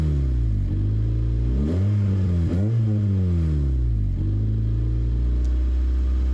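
Close-up recording of a car fitted with a Spoon Sports street exhaust, taken a few feet from the tailpipe: a steady low idle broken by several moderate revs that rise and fall smoothly, with no voices.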